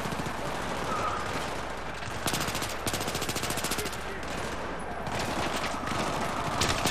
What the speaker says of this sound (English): The police are shooting.